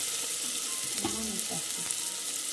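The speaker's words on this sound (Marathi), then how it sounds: "आता टॅमॅटो आणि चांगलं असं मिक्स करून घ्यायचं" Chopped tomatoes with onions being stirred and fried in a hot pan, steady close sizzling with a few scraping stir sounds.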